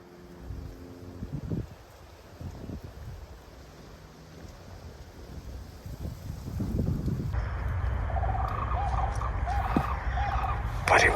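Sandhill cranes call at a distance outdoors during a hog hunt, with rolling, rattling bugles that grow louder toward the end over steady wind noise.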